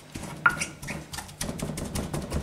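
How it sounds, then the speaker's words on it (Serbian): Garlic being crushed with salt under a pestle, a series of dull thuds and grinding knocks at an uneven rhythm, close and fairly loud. "Ovako izgnječem beo luka"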